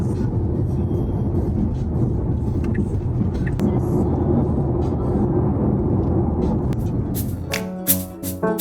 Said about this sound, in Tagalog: Sa isang BEV po ay iba ang tunog ng takbo sa expressway.